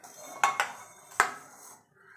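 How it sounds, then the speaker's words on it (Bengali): A metal kadai wok is set down on a kitchen stove, giving three sharp clanks, two close together and one after a short pause, then a brief ringing fade. "দেখুন বন্ধু, কড়াই বসে দিয়েছি"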